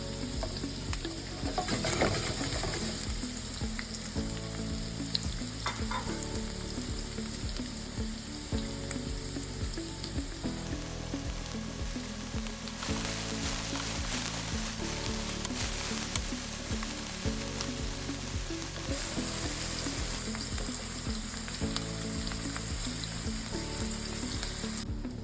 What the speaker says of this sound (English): toss in the onion and let them sizzle